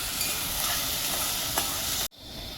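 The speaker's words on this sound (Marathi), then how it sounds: "कांदा छान भाजून घ्यायचा आहे, ब्राऊन गोल्डन ब्राऊन कलरचा होईपर्यंत" Chopped onion frying to golden brown in a pan for egg bhurji, a loud continuous sizzle with a few spoon scrapes, then a sudden brief drop as the stirring pauses.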